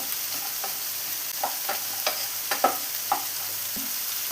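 Onions sautéing in a pan with a pinch of salt while cooking a paneer mushroom masala, a steady broadband sizzle with a handful of soft utensil stirring taps scattered through it, close and moderately loud.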